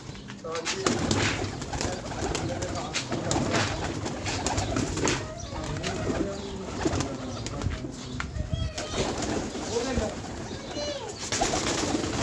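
High-flying pigeons coo repeatedly amid a busy, noisy backdrop in Lahore, with people talking nearby and occasional wing flutters.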